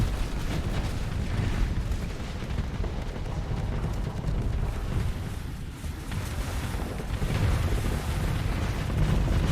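Reaper torpedoes in the space combat game Starsector launch and detonate amid a constant heavy roar of low rumbling blasts and whooshing, dense and continuous with no voices.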